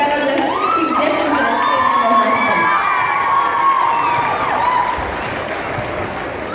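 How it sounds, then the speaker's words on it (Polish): At a children's jazz dance competition award ceremony, a crowd claps and cheers loudly with high children's shouts and whoops over the clapping, easing slightly toward the end. "chyba należą się jeszcze większe brawa dla wszystkich dzieci"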